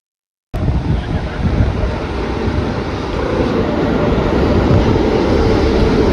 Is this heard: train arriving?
yes